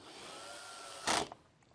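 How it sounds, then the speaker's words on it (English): A cordless drill, set to low torque, drives a screw into an LG 84-inch Ultra HD TV main board: a soft steady whir runs for about a second, then a short louder burst of grinding as the screw seats, fading quickly. "keep the torque low on your cordless drill in order not to damage the screws or damage the panel or the main board"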